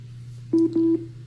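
A Google Home Mini plays its call-ending tone: two short, clear electronic beeps in quick succession over a low steady hum.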